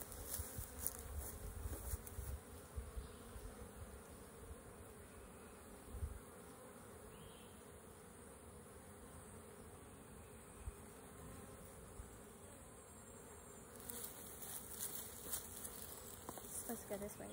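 Honey bees buzzing throughout a beehive inspection, a constant droning hum with individual bees whining close by, plus intermittent handling bumps and rustles near the start and end.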